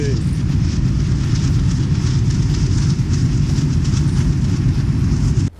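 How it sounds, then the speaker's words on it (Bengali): A Bangladeshi train rumbles past near the India–Bangladesh border with a loud, continuous roar and rattle that holds steady before cutting off at the end. "ওই যে ট্রেন যাচ্ছে"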